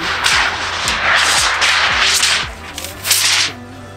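A thin stainless steel sheet for a titanium camping stove chimney flexes and wobbles, giving a series of loud, close metallic whooshing warbles and pops that repeat rhythmically through the clip.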